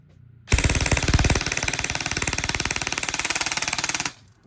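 Delta D002HT airsoft AEG rifle firing on full auto, a loud, close, rapid mechanical burst of evenly spaced clattering shots lasting about three and a half seconds, with no voices.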